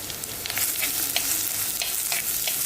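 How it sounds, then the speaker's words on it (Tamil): Five or six garlic cloves sauté in hot oil with mustard seeds and curry leaves for bitter gourd thokku, a loud steady sizzle with occasional stirring scrapes, no talking. "5-6 பூண்டு போட்டு நல்லா வதக்கணும்."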